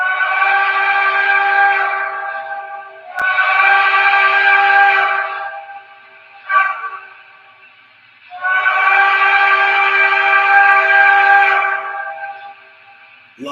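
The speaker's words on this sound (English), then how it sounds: "my favorite whistle of this is the crossing sounds" O scale model train sounds a loud, close multi-tone whistle in long blasts, a short toot between them, in the long-short-long pattern of a grade crossing signal.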